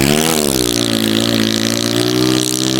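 A motorcycle revs hard at a race track during a test ride, its engine note dipping then rising and holding in a loud, close, buzzing drone with strong harmonics throughout.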